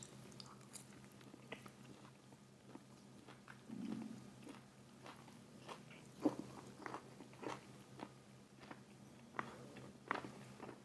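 Panda Express original orange chicken is bitten and chewed in quiet, scattered crunches, spaced irregularly and close, over a faint room hum.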